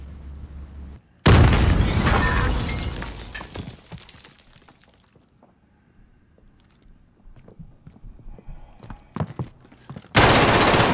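Bursts of loud gunfire from Call of Duty Warzone: a heavy rapid volley at the start that decays into scattered shots and clatter, then another sharp burst at the end.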